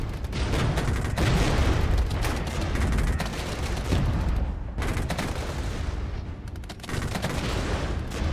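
Gunfire from units engaging enemy vehicles in the Cold War strategy game Regiments, dense overlapping rifle and machine-gun bursts with booming impacts, loud and continuous across the scene.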